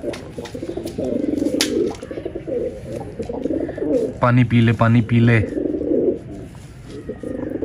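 Pigeons coo in soft repeated throaty rolls nearby while a person talks over them, a clear burst of cooing in the middle.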